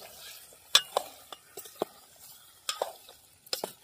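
Fish curry cooking in a pan at home, with a utensil scraping and stirring in scattered sharp clinks over a soft steady sizzle, close by.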